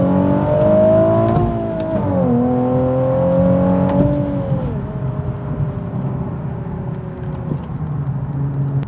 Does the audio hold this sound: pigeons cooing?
no